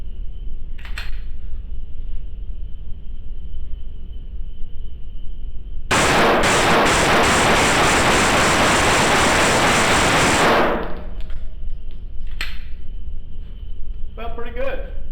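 Rapid burst of loud gunfire from a Gen 5 Glock 19 MOS pistol fitted with a Mayhem Syndicate compensator, a dense roar of shots lasting several seconds outdoors, with quieter surroundings before and after.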